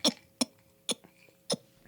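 A voice mimics a man's throat clearing: four short, harsh guttural bursts spaced evenly about half a second apart, close and fairly loud with quiet gaps between.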